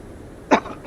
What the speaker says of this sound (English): Gonna cough again.